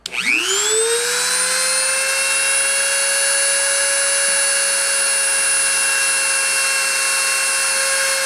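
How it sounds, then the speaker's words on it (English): Machine spindle spinning up quickly during a deposition run, then holding a loud, steady high-pitched whine with several sustained tonal layers. "I'm going to start the spindle and start the deposition."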